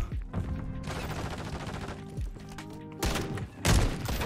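Sniper rifle shots in a video game, several loud, sharp booming reports at close range, with the last two shots heavy and punchy near the end, amid game sounds and no talk.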